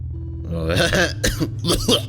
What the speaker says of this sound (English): Still coughing, but I said I'm not sick.